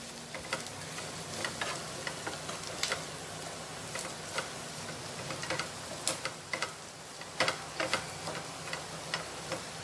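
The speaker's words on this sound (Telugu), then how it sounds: "ఈ చికెన్ని కొద్దిసేపు ఈ ఆనియన్స్తో పాటు లైట్గా ఫ్రై చేసుకోవాలి" Chicken frying lightly with onions in a pan sizzles steadily up close, with repeated clicks and scrapes from stirring scattered throughout.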